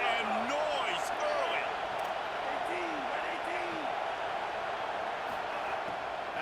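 Stadium crowd at an SMU at Florida State college football game roars in a steady, loud wash, with a commentator's voice rising and falling over the top throughout.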